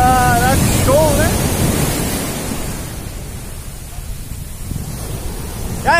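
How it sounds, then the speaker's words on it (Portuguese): Ocean waves break on a beach at Boiçucanga in a broad, continuous roar of surf with wind buffeting the microphone, swelling and easing, while someone talks briefly at the start and end. "só se liga nas ondas que tá quebrando aqui"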